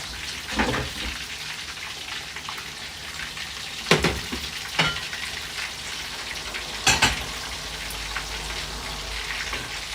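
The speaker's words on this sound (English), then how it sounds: "Because of the fact that I stir fried the garlic, it smells amazing." Garlic sizzles as it is stir-fried in a pan during home cooking of Haitian dishes, a steady close frying hiss broken by a few sharp clatters of utensil against pan.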